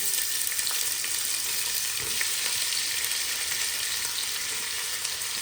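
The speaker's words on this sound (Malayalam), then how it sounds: "എന്നിട്ട് അതിലേക്ക് നമ്മൾ അരിഞ്ഞു വെച്ചിട്ടുള്ള ഉള്ളി കൂടെ ചേർത്ത് കൊടുക്കണം" Sliced onion sizzles in hot oil with cloves and cardamom while beef biryani is being prepared, a steady, close, even frying hiss that runs throughout with no talking.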